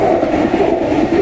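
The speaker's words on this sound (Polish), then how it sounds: "Piękny pociąg Stadler," A Stadler passenger train passes close by at a level crossing, giving a loud continuous rushing rumble with faint rhythmic wheel clatter throughout.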